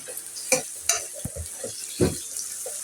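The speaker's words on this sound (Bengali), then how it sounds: "পেঁয়াজটা লাল করে ভেজে নেব" Onions fried until browned in a pot for chicken pilau, heard as scattered scraping stir strokes and clinks over a light sizzle, close and without talk.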